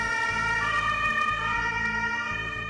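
An ambulance siren wails loud and steady with a continuous tonal sweep, close by over traffic rumble.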